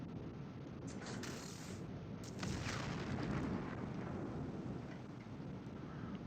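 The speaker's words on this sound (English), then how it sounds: "I don't know if I can even hit it with these torpedoes." Torpedoes exploding against a Xeno Steel block in Empyrion: a faint, continuous rumbling roar of blasts, low and thunderous, with a slight swell partway through.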